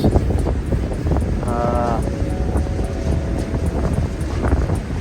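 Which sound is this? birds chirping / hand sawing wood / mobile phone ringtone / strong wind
strong wind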